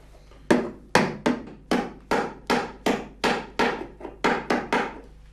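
Nails are hammered into the wooden frame of a handmade cowboy saddle: a quick run of about a dozen crisp, ringing blows, close and alone, with brief uneven pauses.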